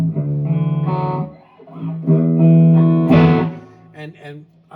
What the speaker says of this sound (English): this I think is just the plate reverb.